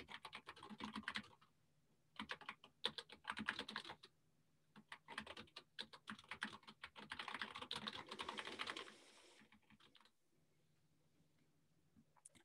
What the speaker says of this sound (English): And I'm literally typing